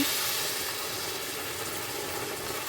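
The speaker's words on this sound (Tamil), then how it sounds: "இப்போ நான் தண்ணி விட போகிறேன் இதுக்கு தேவையான அளவு தண்ணி" Water is poured into a pan of dried fish curry with mango cooking over a low flame, making a steady, close hiss and rush that stays even and fairly loud for the whole stretch.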